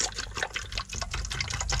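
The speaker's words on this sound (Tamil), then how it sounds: "அந்த முட்டை முழுகிற அளவுக்கு பார்த்திங்கன்னா தண்ணி ஊற்றிக்கிறோம்" Water poured into a small cooking pot over quail eggs until they are submerged, a steady splashing, gurgling pour up close for under two seconds, with no talk over it.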